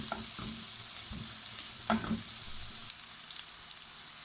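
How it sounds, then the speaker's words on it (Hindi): Sliced onion frying in about a tablespoon of hot oil, a steady close sizzle with a few brief stirring scrapes and pops, no talk. "और इस प्याज को हम इसमें डाल देंगे 1 टेबलस्पून ऑयल एंड अनियन।"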